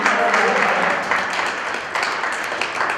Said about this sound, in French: On acclame encore pour lui.